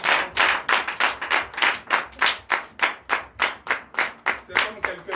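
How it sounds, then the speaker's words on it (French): Congregation at a Sunday church worship service applauding loudly in a steady rhythmic beat, claps evenly spaced and strong throughout, with voices mixed in underneath. "C'est pourquoi je vous demande d'applaudir très fort."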